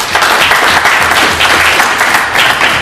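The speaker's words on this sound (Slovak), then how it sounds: "Prosím, veľký potlesk." Large audience applauding the winner of the Škoda Bike Open Tour 2014, steady loud clapping that fills the room evenly with no talking over it.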